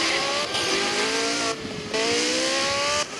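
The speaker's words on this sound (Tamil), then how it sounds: "செம்ம ஸ்பீடு வண்டி." A fast car speeds past with a loud, continuous engine roar, pitch rising and falling with short dips and surges, and tires squealing as it races along.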